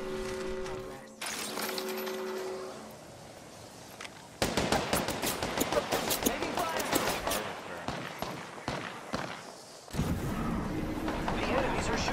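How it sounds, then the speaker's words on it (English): Enemies open fire in the Apex Legends video game with loud, rapid bursts of gunshots that come in waves, separated by a quieter stretch and then resuming, while voices are heard alongside. "The enemies are shooting at me."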